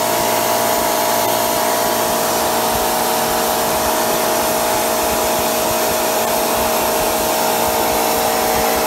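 A high energy industrial micro burner used as a process heating element, roaring loud and steady with a constant broadband hiss and a few sustained tonal hums, unbroken from start to finish with no talking.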